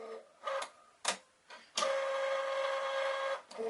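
A RECUT cutting machine cutting a design, with a few short whirring jolts and clicks followed by a sustained steady motor whine, close and fairly quiet with no talk.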